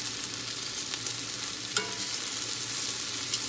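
Food fries in a pan for a keto dirty rice dinner, a continuous close sizzle with scattered crackles and occasional sharper pops, with no talking.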